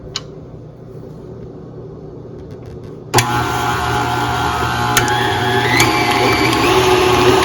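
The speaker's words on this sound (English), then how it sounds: "We're going to begin creaming our butter." An electric mixer creaming butter for a strawberry layer cake starts abruptly after a quiet stretch and keeps up a loud, steady motor whir with occasional scraping clicks.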